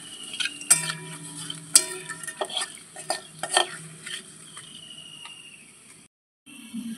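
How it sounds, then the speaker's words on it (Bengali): Whole garam masala, bay leaf, dried chillies and cumin fry in oil in a pan. A light sizzle sits under scattered metallic clinks and scrapes of a spatula, fading quieter toward the end. "গোটা গরম মশলা, শুকনো লঙ্কা, গোটা জিরে, মশলাটা একটু তেলের মধ্যে একটু ভেজে নেব।"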